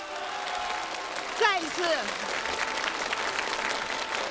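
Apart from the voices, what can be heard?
concert audience applause for a composer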